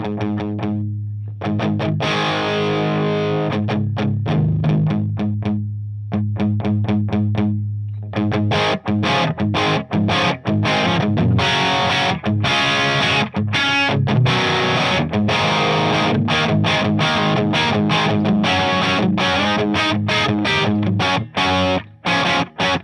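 Electric guitar played through a Marshall 1987x amplifier set for high gain, loud, heavily distorted chugging riffs and chords, sparse at first then dense and continuous, with no talking.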